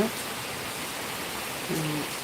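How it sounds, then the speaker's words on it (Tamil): Rain falls steadily as an even wash of hiss, with a short tonal sound rising briefly near the end. "மழை பெய்யுது"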